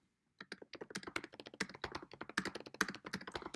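Fast typing on a computer keyboard, a rapid irregular run of crisp close key clicks starting after a brief pause and continuing to the end, alone with no talk.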